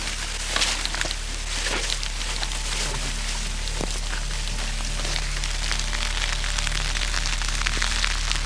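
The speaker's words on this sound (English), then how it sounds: "It's starting to rain" Steady rain pattering on a surface, a constant dense hiss with scattered drops and a low hum underneath.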